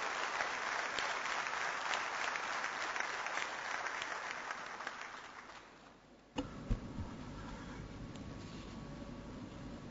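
Applause fills a plenary hall at the closing session of an Internet Governance Forum in Indonesia, a dense roomful of clapping that fades out, followed by a quieter room with faint rumble and scattered noises.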